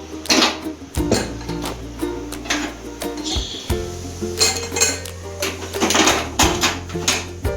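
A metal pressure cooker being opened after cooking poha with potatoes, with repeated sharp clanks and clinks of the metal pot and lid, loud and close, plus a brief hiss of released steam, no talking.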